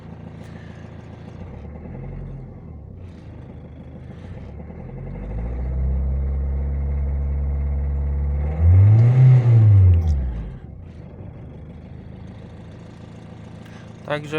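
Opel Vivaro diesel van engine cranking, catching and running after injector replacement, with an idling rumble that swells into a louder rev near the middle before settling back to idle; brief talk occurs.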